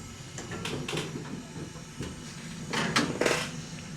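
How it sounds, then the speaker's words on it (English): A butter-coated slice of toast slides into a 1927 Quality range oven, with soft metallic clanks of the rack and oven door clattering close by and no voices. "Now I'm going to stick it in the oven."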